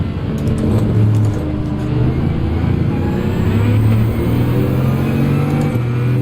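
A 16-cylinder race car with four turbos revs hard in a Gran Turismo 7 online race. The engine drones loud and steady, with pitch shifting through gear changes, against other cars and no talking.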